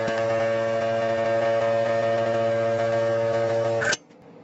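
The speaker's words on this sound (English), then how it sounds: "I'm going to pour that water through with a pump." Small pump running steadily while drawing cold water through a lab filter during a chemical synthesis, a constant tonal hum that cuts off abruptly near the end, leaving faint background.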